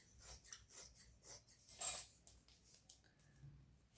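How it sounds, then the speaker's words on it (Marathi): Scissors snipping through blouse fabric being cut for a V-neck blouse, with a series of short, crisp, close cuts in an uneven rhythm and one louder snip midway, then quieter rustling of cloth. "इथून कैचीनच कापून घेते मी."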